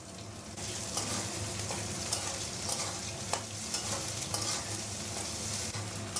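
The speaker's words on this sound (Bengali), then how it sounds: "পেঁয়াজটা একটু ভেজে নেব।" Onions frying in oil with black cumin for a Bengali Bombay duck curry, a continuous dense sizzle with intermittent stirring clicks, no voices.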